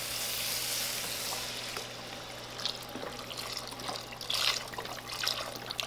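Vegetable broth poured into a pot of hot sizzling spices for Turkish lentil soup, a steady hiss of frying and liquid close by, with bursts of bubbling and splashing toward the end; no talking.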